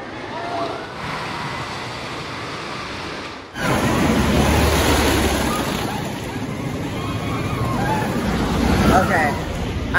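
A ride on the Thunderhead wooden roller coaster at Dollywood: a steady roar of wind and rumbling track, growing louder partway through, with crowd babble and faint screams mixed in.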